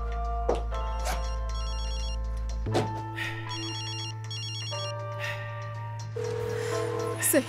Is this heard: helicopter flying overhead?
no